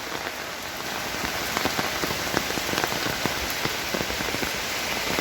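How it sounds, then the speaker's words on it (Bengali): Steady rain pours down on open ground in a rural yard with chickens, a dense continuous hiss dotted with close individual drops and splashes. "এই আবার বৃষ্টির পানিতে ভিজে শেষ"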